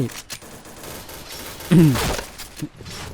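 Gunfire bursts from a shooting video game, sharp cracks between 0 and 0.5 s and again around 1.7 to 2.6 s, with a voice talking over them.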